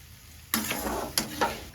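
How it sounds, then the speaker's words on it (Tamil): Onions and garlic sautéing in a pan for Chettinad green chilli mandi, a steady sizzle with a few sharp scraping stirs of a spoon, close and with nobody talking. "எல்லாத்தையும் சேர்த்து நல்லா வதக்கிக்கலாம் நல்லா செல்வந்து வரணும் வெங்காயம் சுருங்கி"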